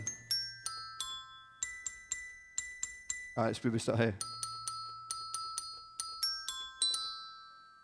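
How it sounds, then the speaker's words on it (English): Bright bell tones struck by robots one after another in a steady, uneven pattern, with a brief burst of talk in the middle. "So we have bells there."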